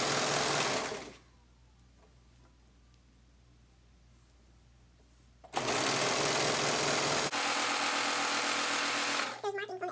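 A serger overlock sewing machine stitches fabric for a zipper infinity scarf, its fast whirring motor running loud and close in two bursts separated by a few quiet seconds.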